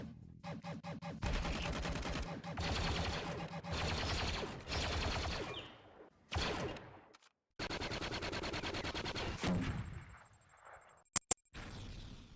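Wester M5 rifle from Gundam Battle Operation 2 firing in long rapid automatic bursts, loud and close, separated by short pauses, with mechanical clicks and a couple of sharp pops at the end.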